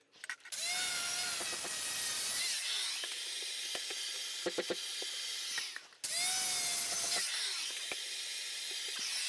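Shower wall tile being scribe-cut with a power tile saw, two long loud whining cuts separated by a brief pause, with a few short clicks and knocks between them.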